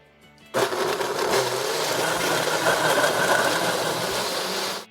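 A blender starts abruptly and runs at a constant loud whir for about four seconds, pureeing fresh vegetables with water and red wine vinegar, then cuts off, with no talk.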